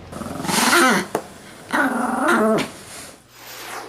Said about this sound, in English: It's really something to see a 75-pound Doberman and a 6-pound Chihuahua interact the way they do